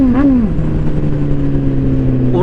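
Kawasaki Z1000R motorcycle with a dual-canister exhaust, a quick blip of revs falling back into a loud, steady idle rumble close by.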